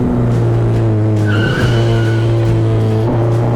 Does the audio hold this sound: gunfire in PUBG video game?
no